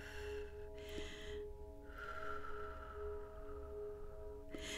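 A person breathing deeply during a guided grounding meditation, long slow inhales and exhales drawn close to the microphone over steady room hiss, with no talking.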